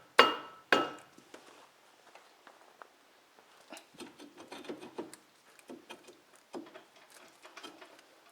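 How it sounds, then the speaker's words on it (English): Two hard, loud whacks from a rubber mallet striking a stuck old brake rotor on a Pontiac Grand Am, followed by softer scattered knocks and rattles of the part working loose. "So we're going to take a rubber mallet and hit it. Just give it a couple good whacks with this."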